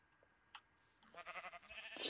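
Sheep bleat in Minecraft, a faint short call followed by a louder wavering bleat that rises toward the end.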